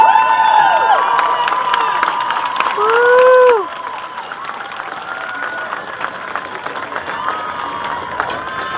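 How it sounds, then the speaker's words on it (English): A school audience at a Magnolia High School graduation ceremony in Anaheim, California, applauds and cheers for honor students, crowd noise and scattered clapping spreading across a large hall with whoops and voices mixed in. "One more round of applause for these amazing young scholars"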